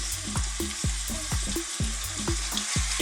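Strips of belly pork sizzle and spit steadily in hot oil in a pan, with repeated soft scraping stirs cutting through the crackle.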